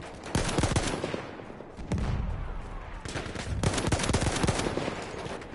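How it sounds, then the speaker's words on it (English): In a video game tournament match, an enemy machine gun fires several loud bursts of rapid automatic gunfire that crackle and echo, separated by brief gaps. "There's an enemy machine gun."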